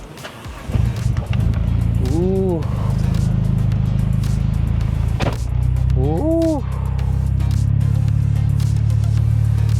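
A Nissan 180SX engine fires up and settles into a steady, low rumbling idle that continues throughout, with people talking over it.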